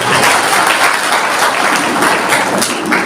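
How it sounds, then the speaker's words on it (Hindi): Crowd at a Brahmin community introduction gathering breaks into loud, close applause, a dense unbroken patter of many hands sustained across the whole stretch. "ताली बजाइए।"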